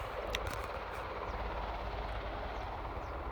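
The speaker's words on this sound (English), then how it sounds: "I also hear that helicopter in the very distance" A helicopter far off near Aberdeen airport, a faint steady rotor drone sitting low under broadband outdoor noise with a few brief higher ticks, continuous throughout.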